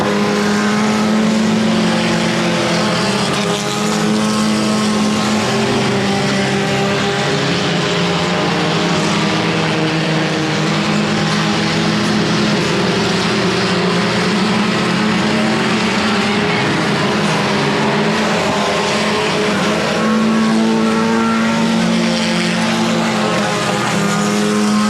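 Factory stock 4-cylinder race cars roar around a dirt speedway during a main event feature, a loud continuous engine drone with rising and falling passes that persists steadily throughout, no speech.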